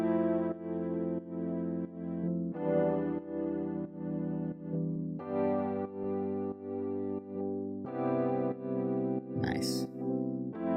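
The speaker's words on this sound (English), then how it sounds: "this is just going to give it that kind of like pulsing sound" A distorted, buzzy synth tone pumps in a steady rhythmic pulse, swelling and ducking on each beat, with a brief squeal near the end.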